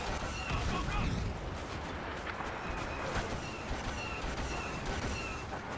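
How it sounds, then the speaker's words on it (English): Bombing run in Star Wars: Battlefront, with rapid bursts of gunfire and explosive cracks scattered over a dense rumbling battle din, fairly faint overall, a voice talking over it. "So they're coming in for that first bombing run."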